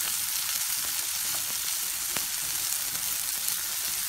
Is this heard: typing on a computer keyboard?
no